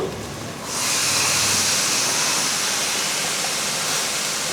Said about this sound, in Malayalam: വെള്ളം തിളച്ചതിലേക്ക് നമുക്ക് റൈസ് കഴുകി വെച്ചത് ഇട്ട് കൊടുക്കുന്നു